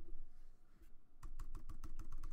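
A few quick presses on a computer keyboard's hot keys, a short burst of sharp clicks after a brief quiet stretch, close and fairly soft.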